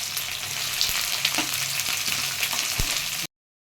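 Garlic, ginger, onion and capsicum fry in a hot pan with a loud, continuous close sizzle and a few faint stirring knocks. The sizzle cuts off abruptly, and no one speaks.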